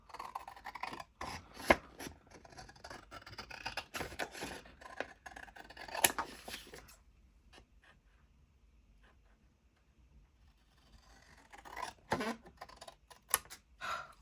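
Scissors slice through craft paper at a crafting table, producing close, rasping cuts in steady bursts, then a quiet pause before the snipping resumes near the end.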